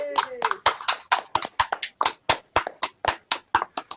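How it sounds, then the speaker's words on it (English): Applause from a small audience, a few people clapping loudly and close with uneven sharp hand claps and light voices mixed in. "Round of applause."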